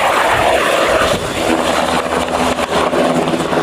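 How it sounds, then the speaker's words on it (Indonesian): A red and white ambulance helicopter gives a loud, steady rotor and engine roar that fills the whole stretch without any voices. "Ini helikopter ambulan."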